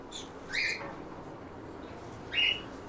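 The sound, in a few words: pair of white cockatiels squawking in an aviary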